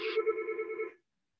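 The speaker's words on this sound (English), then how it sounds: "I just had a brief interruption, phone call." A telephone rings once with a steady electronic trill for about a second, then cuts off abruptly into silence.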